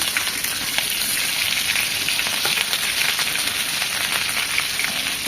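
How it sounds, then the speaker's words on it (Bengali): Beef suta kebab frying in oil as the pieces are turned, a steady dense crackling sizzle with sharp pops throughout, close and fairly loud with no voices. "এভাবে উল্টিয়ে পাল্টিয়ে ভেজে নিতে হবে সুতা কাবাবগুলো"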